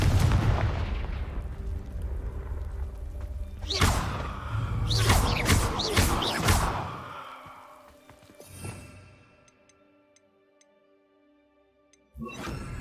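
A Confringo fire blast spell in Hogwarts Legacy bursts out as a loud whooshing explosion with several sharp cracks, then the roar fades into a low quiet hum before another burst starts at the end.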